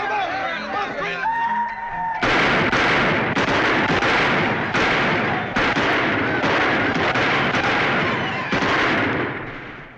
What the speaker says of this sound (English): You going to do anything about those guns out there?